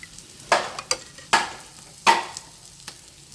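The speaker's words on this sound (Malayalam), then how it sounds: "ഇനി മീൻ ഇട്ട് കൊടുത്തിട്ട് നന്നായിട്ട് മിക്സ് ചെയ്ത് കൊടുക്കുന്നുണ്ട്." Mackerel pieces stirred into fish curry in a pressure cooker: four or five sharp, close spoon scrapes against the metal pot over a soft sizzle, with no voices.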